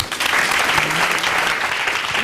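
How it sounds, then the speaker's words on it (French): A studio audience on a Burkina Faso television music show applauds a female musician, steady dense clapping held at full strength for the whole stretch, with no voices over it. "Applaudissez pour elle."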